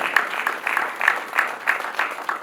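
An audience at a live family celebration claps in a steady rhythm, with about eight evenly spaced bursts of clapping at moderate volume.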